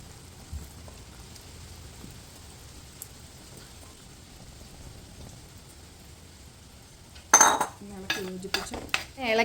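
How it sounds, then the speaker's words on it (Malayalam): Rambutan pickle cooking in oil and vinegar in a pan sits as a faint, quiet sizzle for most of the stretch, then loud stirring and scraping clatter breaks in near the end. "ഇളക്കി യോജിപ്പിച്ച് വയ്ക്കാം."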